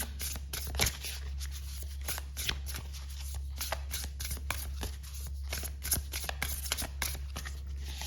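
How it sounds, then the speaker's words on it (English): Tarot cards are shuffled and pulled in a steady run of quick riffling and papery flicks, close up, with a low constant hum underneath and no talking. "Let me pull some more cards."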